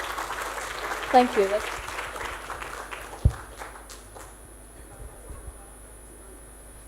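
An audience at an academic talk applauds briefly and fairly distantly as the speaker is welcomed, fading quickly as someone says a few words, with one sharp thump in the middle.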